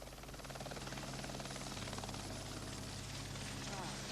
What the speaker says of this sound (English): flying his own jet helicopter